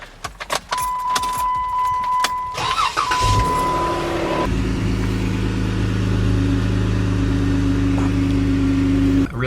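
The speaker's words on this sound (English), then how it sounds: "thought I'd give y'all a little cold start of the Jeep just to see what she does" A Jeep cold start: keys jangle near the ignition, a chime rings, the starter cranks briefly, then the engine catches and settles into a loud, steady idle rumble.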